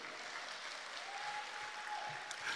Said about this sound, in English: 30 years, a big round of applause